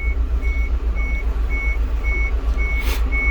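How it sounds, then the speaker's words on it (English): A Prevost H3-45 bus's audible warning alarm beeps at a steady, even pace over a low idling engine rumble, with a brief hiss near the end. "you can hear our audible alarm is sounding"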